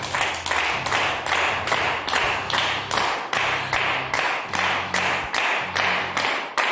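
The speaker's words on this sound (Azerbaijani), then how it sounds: "Bəli, sənətkara gözəl alqışlar düşür" A studio audience applauds a guest artist on a talk show, loud steady clapping with rhythmic swells and no break.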